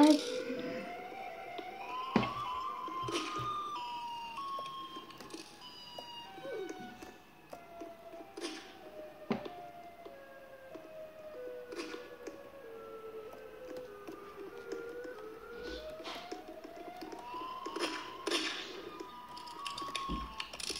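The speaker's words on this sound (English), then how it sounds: "Siren is right there." A siren wails in the distance with rising and falling tones, heard outdoors under scattered voices and street noise.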